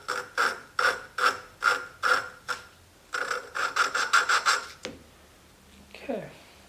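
Valve lapping by hand with grinding compound on an engine valve seat, a rhythmic series of gritty rasping strokes, about a dozen close scrapes in two bursts, followed by a pause and a softer rub.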